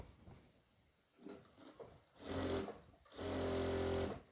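Sewing machine running in two short bursts while stitching the side seam of a kameez, the second run longer and steadier, close and fairly quiet with no talk.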